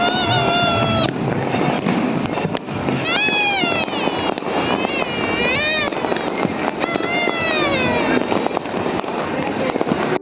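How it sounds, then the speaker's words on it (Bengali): Firecrackers burst repeatedly during the Uttarayan kite festival in Ahmedabad, with loud crackling pops spread through the scene alongside a busy crowd ambience and some voices. "দেখুন খালি কত বাজি ফাটছে।"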